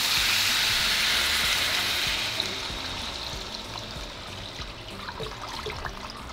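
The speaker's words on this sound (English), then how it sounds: "we're going to add water" Water, about 10 cups, pours steadily into a soup pot holding chicken and onion, a continuous trickling splash that gradually softens and thins out, with a few small clinks near the end.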